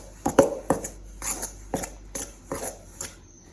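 Sourdough dough mixed with a butter knife in a steel bowl, a series of sharp metallic scrapes and clinks in an uneven rhythm, close and alone.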